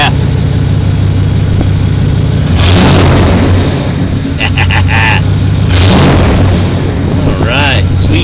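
Truck engine idling with a deep steady rumble, then revved several times in short loud bursts that rise and fall, close to the microphone.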